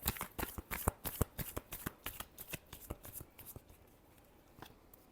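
Tarot cards being shuffled by hand in a quick run of crisp riffling slaps, close and moderately quiet, with no talking.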